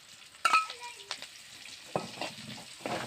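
Green chillies and curry leaves spit and sizzle in a pan of oil for gooseberry pickle, quiet intermittent crackles with a few sharper pops and stirring clatters, heard close.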